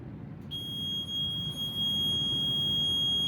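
A fire alarm panel's trouble buzzer sounds a steady high-pitched electronic tone continuously over a low background hum, starting abruptly after a brief quiet moment.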